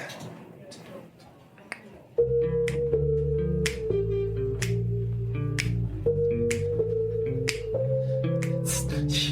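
Band members clap steadily along with a live bar performance of a song with French horn and singing, the sharp claps ringing at a regular beat over the sustained horn and voices after a quieter start.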